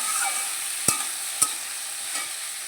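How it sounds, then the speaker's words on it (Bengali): Eggplant and potato pieces frying in a pan, a steady hissing sizzle with a few sharp spatula knocks against the pan, close and without talk. "বেগুন আর আলুটা লাল করে ভেজে নিয়েছি"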